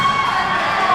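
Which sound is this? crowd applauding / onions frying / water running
crowd applauding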